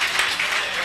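A church congregation at a Sunday service claps to welcome an apostle, a short, dense burst of many hands with no pauses.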